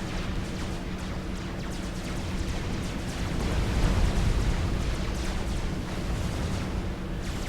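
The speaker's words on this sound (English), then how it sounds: "things are exploding, that's always fun" Explosions in the strategy game Supreme Commander: Forged Alliance, heard as a continuous dense rumble of overlapping booms and crackles that swells briefly midway.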